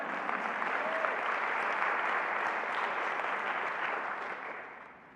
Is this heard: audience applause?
yes